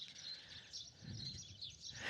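Birds singing at the ruins of the Temple of Isis, a thin chorus of high chirps and tweets drifting over faint outdoor ambience, fairly distant and soft, no one talking.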